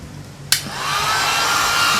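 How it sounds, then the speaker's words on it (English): A hair dryer switches on with a sharp click and blows loudly and steadily into the mechanism of a Copal RD150 flip clock radio being serviced, its motor whine rising slightly as it settles. "Moving the hairdryer around so that the motor doesn't get too hot."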